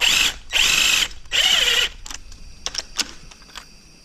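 A bolt on a car being lowered is tightened with a ratchet: three long, loud bursts of rapid clicking, then scattered sharper metallic clicks and taps fading out, up close with no talking.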